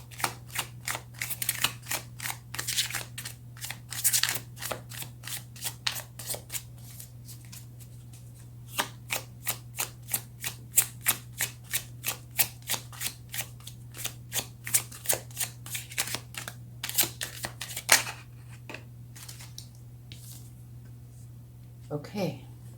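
Tarot cards are shuffled by hand in rapid, repeated riffling bursts that run steadily for a long stretch, close and crisp over a low steady hum.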